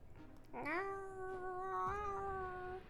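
A cat in a video game meows once in a long, drawn-out, slightly wavering cry, close and clear against quiet background noise.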